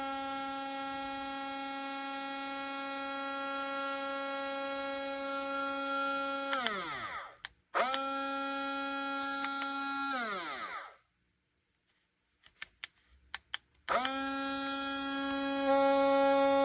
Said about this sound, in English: So it's like a different kind of mode for the blender.